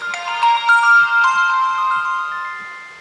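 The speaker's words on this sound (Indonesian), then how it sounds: "dan pas nyala bunyinya kayak gini." Smartfren E781A phone plays its startup jingle, a bright tinkling run of electronic chime notes, loud and close, that rings out and fades over about three seconds with no talking.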